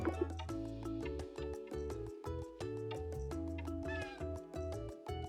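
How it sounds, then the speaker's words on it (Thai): Cat meowing repeatedly in the Coral Island farming game, a run of short close meows over light background game music, fairly quiet overall. "แมว"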